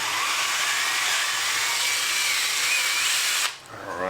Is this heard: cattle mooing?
no